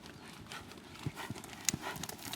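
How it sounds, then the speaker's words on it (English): A horse cantering in a riding arena, soft rhythmic hoof beats in clip-clop fashion at moderate distance, fairly quiet against low background noise. "A little more jump in the canter, Jenny."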